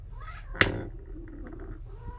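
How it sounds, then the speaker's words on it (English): A pet cat meows briefly indoors, a short close call standing out once over quiet low room noise, with no one talking. "Ignore my cat, Juniper."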